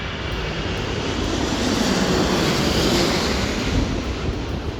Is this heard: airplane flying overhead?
yes